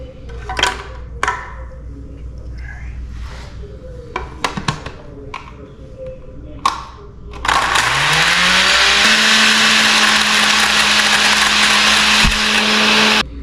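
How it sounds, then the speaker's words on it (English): A kitchen blender crushes cookies into dust, starting after scattered clicks and taps and then roaring loud and steady for several seconds before cutting off. "We don't have a food processor, which would be better to blend it, but we have a blender"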